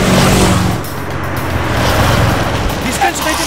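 A car pulling away, a loud low engine rumble that shifts as the vehicle moves off, heard close and continuing steadily.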